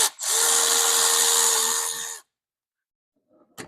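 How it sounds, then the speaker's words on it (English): A Milwaukee 1/4 inch extended reach electric ratchet whirs in one loud, steady burst of about two seconds, stops sharply, and is followed by near silence and a faint click. "1/4 inch Milwaukee extended reach electric ratchet"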